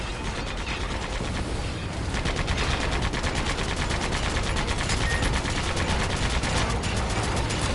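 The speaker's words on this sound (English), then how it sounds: "Use the machine gun again!" Rapid, sustained machine-gun fire from the Sand Land video game, a loud, dense stream of shots running without a break through the whole stretch.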